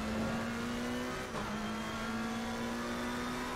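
Steady, sustained engine drone of a Ferrari race car in a sim racing video game, holding a constant pitch with a brief dip midway, loud and close with no talk.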